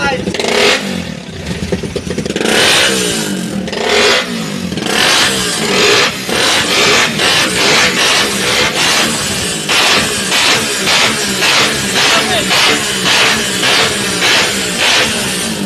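A Raider Fi motorcycle with a stock pipe exhaust revs loud and close in rapid, crackling bursts and throttle blips, with a voice talking over it.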